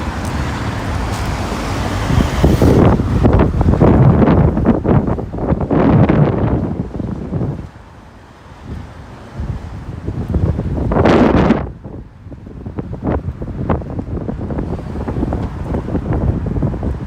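Wind gusts across a microphone on a Toronto city street, loud rumbling buffets that swell and fade, mixed with passing traffic noise.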